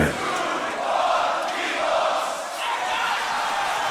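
A crowd at the Grand Beatbox Battle 2021 shouting together in a steady, loud roar of massed voices that swells and dips over several seconds, filling the space without individual words standing out.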